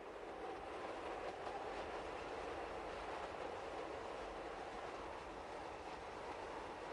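An Appenzeller Railways train runs along the rails high on its Swiss network, a continuous, even rumble and rush of wheels, heard steadily from onboard without a break.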